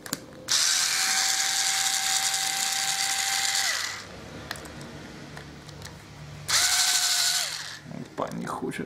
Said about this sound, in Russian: Так, откручиваем.